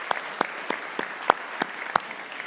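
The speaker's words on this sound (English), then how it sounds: "Everybody, round of applause for my beautiful assistant." Sparse, scattered applause from a small audience at a TEDx talk at the University of Cincinnati, with about seven distinct claps spread irregularly across the moment, fairly faint and with no talking.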